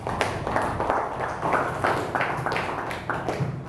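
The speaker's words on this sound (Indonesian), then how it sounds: "Kita beri tepuk tangan." A high school class claps together in a classroom at SMA N 1 Sewon Bantul, Yogyakarta, producing a fairly loud, steady run of close, rhythmic hand claps for several seconds with no talking over it.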